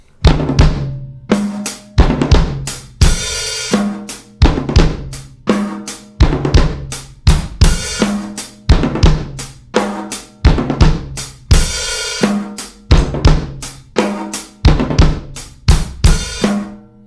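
Drum triplets on a high tom from a song repeat in a steady, loud rolling pattern, each group of resonant hits bouncing along evenly with no talking.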